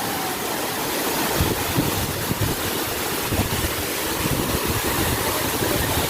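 Steady rushing roar of a forest waterfall at Orekkar, broad and continuous with no talk, water pouring constantly close by.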